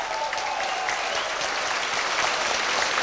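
Loud, sustained applause from a live audience at a 1991 folk music show evening, a continuous dense wash of clapping that fills the whole moment without a break.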